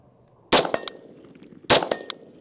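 Two sharp, loud AR rifle shots fired at a target, about a second apart, each cracking suddenly and trailing off in a short echo against a quiet background.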